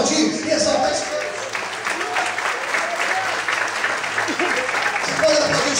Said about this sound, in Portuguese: Você pode aplaudir e exaltar esse Deus.